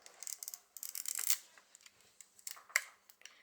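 A Pentax K2 film SLR is wound and fired, giving soft rapid ratcheting clicks from the advance lever, then scattered lighter clicks and a sharper snap of the shutter, all quiet and close with no talking.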